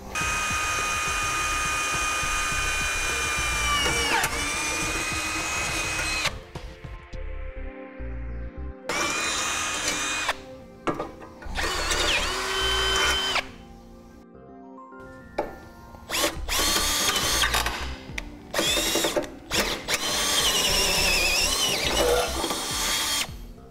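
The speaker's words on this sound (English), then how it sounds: "Once we have the center point, we can then use a smaller pilot bit to get our hole started." A power drill boring a pilot hole into the frame of a 2014 Ford Fiesta, a loud, close, high whine in long bursts broken by short pauses and revving restarts.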